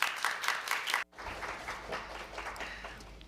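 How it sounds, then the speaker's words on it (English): Audience applause at a formal economic forum hall, steady dense clapping that cuts off abruptly about a second in, then resumes more softly and continues evenly to the end. "Let's welcome him with a big round of applause"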